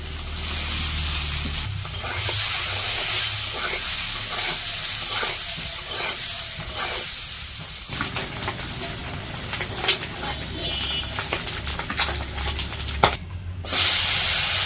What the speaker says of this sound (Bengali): একটু হলুদ দিয়ে দিল, একটু লবণ দিয়ে ডিমগুলো ভেজে নামিয়ে নেব।